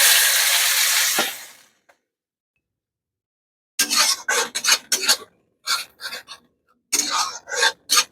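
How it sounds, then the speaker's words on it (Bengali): Chopped onions drop into hot oil in a pan with a loud, hissing sizzle that cuts off. After a short silence, scraping, rasping stirring strokes follow in irregular bursts. "কুচিয়ে রাখা পেঁয়াজ দিয়ে দেবো"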